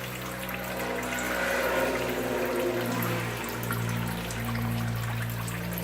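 Water draining out of a chicken fodder growing system after seven days of grass growth, a steady close trickling and pouring wash with a low hum underneath, continuous with no talk.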